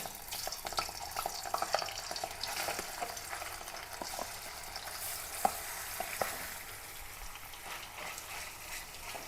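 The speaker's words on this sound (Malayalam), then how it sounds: "ഇതെല്ലാം ഒന്ന് പതുക്കെ ഒന്ന് വറുത്ത് പോരാം" Gentle shallow frying of marinated prawns in a pan, a steady soft crackle of oil with a few sharper pops and occasional stirring, no voices.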